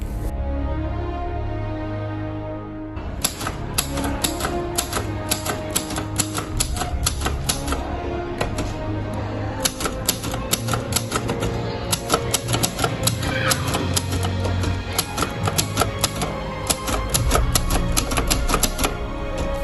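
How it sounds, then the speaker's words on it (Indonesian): A manual typewriter clacks through a typed document in a school drama staging of the proclamation, starting after a brief pause, then rapid, irregular keystrokes with occasional carriage bell and return sounds, close and loud, with no talk. "Sayuti Melik segera mengetik ulang naskah proklamasi"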